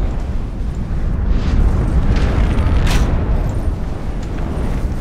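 A deep, rumbling explosion in the video game Dark Souls II: Scholar of the First Sin roars loudly and lingers as a heavy, sustained boom with crackling noise, steady throughout without voices.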